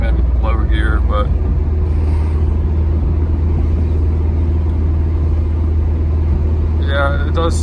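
A Mercedes SL500 drives along with fixed vacuum leaks, its engine a steady low rumble with road noise filling the cabin, while someone talks over it at the start and end.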